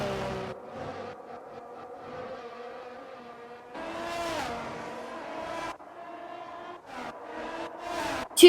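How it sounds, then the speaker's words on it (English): Formula 1 cars racing wheel to wheel at the Emilia Romagna Grand Prix in the F1 22 video game, a sustained high engine whine that shifts pitch through upshifts and downshifts, with a louder surge near the end. "So Lewis Hamilton and Max Verstappen going side by side, going down to turn 7"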